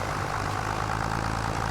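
An old tractor engine labors while seeding grass at about seven miles an hour, a steady, heavy, low droning hum that holds constant and close without any break or talking.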